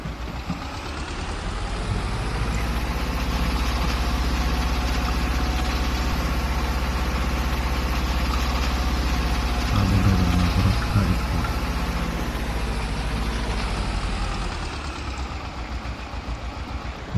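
A vehicle engine, due for an overhaul, idles steadily at close range with a deep, continuous rumble and no talk over it.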